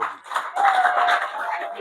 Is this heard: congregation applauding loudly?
yes